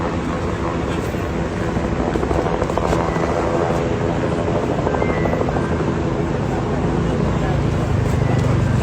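A rescue helicopter flies over a mud-flooded area, its rotor drone loud and continuous, growing slightly stronger through the clip as voices sound beneath it.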